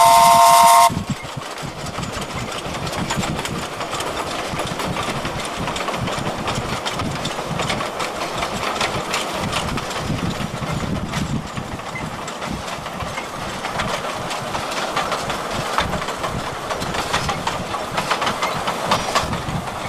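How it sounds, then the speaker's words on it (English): Small train Ferdinand on the Gulbene–Aluksne railway, chuffing along with a steady, continuous rhythmic beat and rolling rail noise, fairly loud and close, with a brief tonal sound at the very start. "Ferdinand's chuffs on towards Aluksne, the little train with a steady beat."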